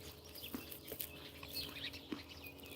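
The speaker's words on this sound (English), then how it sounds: "Oh, listen to the birds." Birds chirping outdoors, faint scattered chirps and tweets rising over a quiet background near a truck, a few short calls spaced irregularly.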